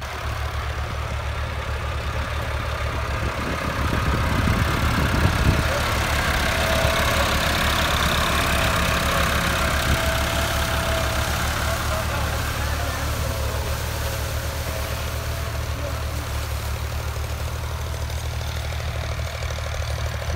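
An Al-Ghazi model 12 tractor idling during potato sowing, a steady low rumbling drone with a faint knock that holds at an even level throughout.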